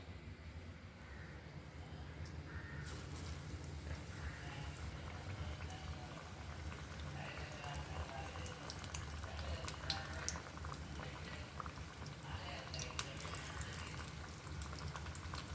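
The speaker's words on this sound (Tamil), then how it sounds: "இப்போ பார்த்தீங்கன்னா எண்ணெய் கொதிச்சுட்டு நீங்கள் எடுத்து எண்ணெய்க்க போடுவோம்" Raw plantain fritters fry in hot oil, a steady, dense bubbling sizzle with occasional sharper crackles, continuous throughout and close by, with no talk.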